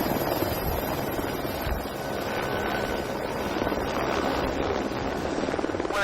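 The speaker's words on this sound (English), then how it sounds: "Now, have you flown a helicopter before?" A helicopter in flight gives off a dense, continuous rotor and engine roar, loud and close, with a windy rumble and no talk over it.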